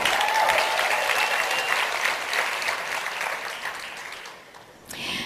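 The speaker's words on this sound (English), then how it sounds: "Give yourself a round of applause." A large audience at a network marketing presentation breaks into sustained applause, dense and steady, thinning toward the end before a brief renewed burst.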